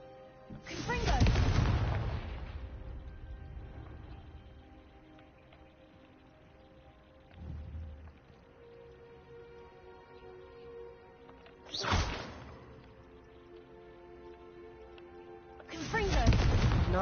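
Confringo fire spells in Hogwarts Legacy, three booming blasts spaced several seconds apart, loud and close, the first and last longest, with a fainter thud between and a low ambient hum underneath.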